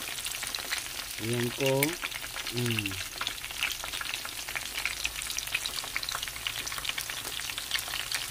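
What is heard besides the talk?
tempura shrimp deep frying in oil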